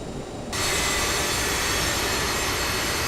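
Twin jet engines of a CRJ-700 in Microsoft Flight Simulator running, a quieter rumble that swells after half a second into a loud, steady broadband roar with a high whine, continuous and close.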